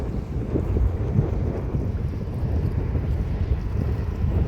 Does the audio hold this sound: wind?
yes